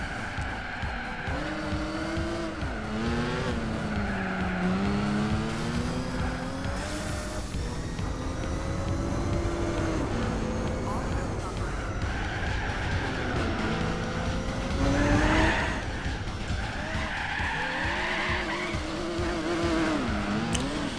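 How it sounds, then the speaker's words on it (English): A Skyline race car in the Gran Turismo 4 video game skids and spins out. A steady engine roar runs throughout, with wavering tire squeals that rise and fall, and a louder surge near the end. "just spun the car out and just held the throttle and hoped"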